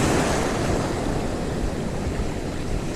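Waves and surf rolling onto a fishing beach, a continuous rushing wash with wind noise buffeting the microphone, steady and fairly loud, no voices.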